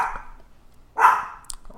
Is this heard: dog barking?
yes